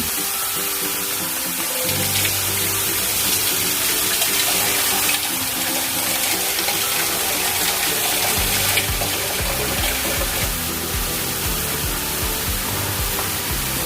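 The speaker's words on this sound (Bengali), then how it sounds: "এর মধ্যে এখন জল দেব।" Water pours steadily and loudly into a dry pan of diced pineapple on a home kitchen stove, a continuous close gushing splash that runs without a break.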